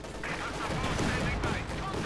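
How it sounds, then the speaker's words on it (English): A Panzer IV tank fires its cannon in the World War II strategy game Company of Heroes 2, a dense, loud burst of gunfire and explosions filling the whole moment, with heavy continuous battle noise and no break. "Shot failed to penetrate the front arm there with the Panzer IV."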